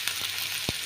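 Capsicum and other vegetables frying in oil give a steady broadband sizzle, with a couple of soft knocks from stirring near the start and a louder one toward the end. No voices.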